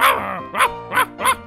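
A dog in the Minecraft video game barks four times in quick, evenly spaced yaps, close and loud, with no talk over it.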